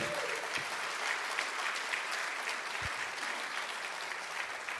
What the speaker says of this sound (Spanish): le vamos a aplaudir todos al Señor